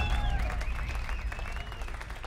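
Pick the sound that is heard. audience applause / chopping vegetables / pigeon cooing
audience applause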